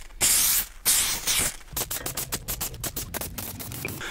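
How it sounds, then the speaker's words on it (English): Glue activator sprayed onto the sections of a telescopic pole: loud, close hissing bursts, first two long sprays, then a run of short rapid spurts in quick succession. "I'm going to spray each section now and see if we can get some of this stuff actually into the gap"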